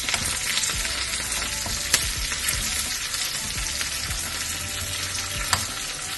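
Sliced shallots, two cut chillies and curry leaves fry in hot oil for a sambar tempering, a steady close sizzle and crackle with a few sharp pops, no voices.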